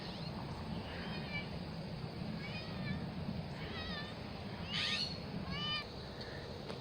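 A cat meows several times during a morning walk outdoors, short rising and falling calls at moderate distance over a steady background hiss, with a louder meow near the end.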